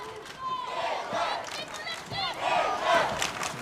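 Travelling Dutch supporters in the stands at a women's canoe polo world championship match against France shout and cheer in bursts, a lively crowd roar rising and falling with overlapping voices.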